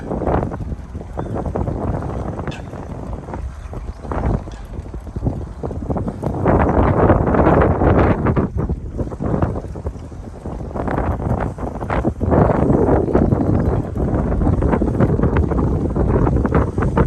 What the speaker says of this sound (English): It's a little hard to bike in this kind of wind.